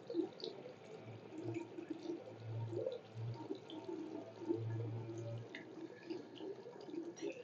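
A microscope slide rinsed with distilled water in a bacteriology lab, a soft, uneven trickle and splash of running water with faint drips, continuing for several seconds without speech.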